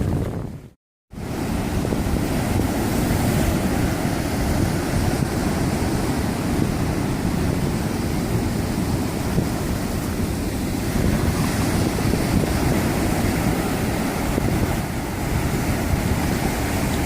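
Ocean surf washes continuously onto the beach at South Padre Island near dusk, a steady loud roar of waves mixed with wind buffeting the microphone, after a brief silent gap at the start.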